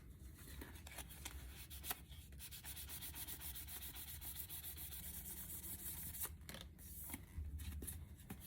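A 350z part is hand sanded with 800 grit sandpaper, giving quiet, continuous scratchy rubbing strokes with a few sharper scuffs, close and alone.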